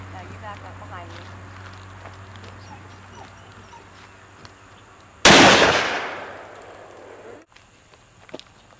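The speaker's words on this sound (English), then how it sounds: "I'm going to actually shoot. We're going to shoot at a standing target, which is falling down." A single loud shotgun blast fired at a standing target on a skeet range, sharp and close with a short decaying tail, preceded by a dog whimpering and people talking quietly.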